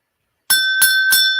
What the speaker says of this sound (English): You see how I'm ringing the bell?